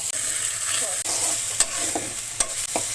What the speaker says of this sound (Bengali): মশলাটা সুন্দর ভাজা হয়ে গেছে